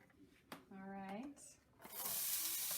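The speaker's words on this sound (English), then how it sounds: "nice sizzle sound" After a brief spoken sound, a loud burst of hissing sizzle as chopped onion hits hot olive oil, close and continuing steadily to the end.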